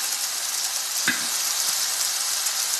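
Ground curry powder, chilli powder and garam masala sauté in oil for roadside-style sundal masala, a steady close hiss of frying with one brief scrape, no talk.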